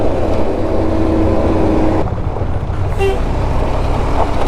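Trucks rumbling past on a dusty, potholed main road in Ecuador, a loud low engine drone with a horn toot near the start and another brief honk midway, heard close from a moving motorcycle.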